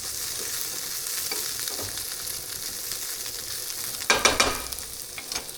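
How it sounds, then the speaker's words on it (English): Vegetables and tilapia sautéing in a very hot pan hiss with a steady close sizzle, and louder scraping stirs come in a cluster near the end. "I'm sauteing the veggies."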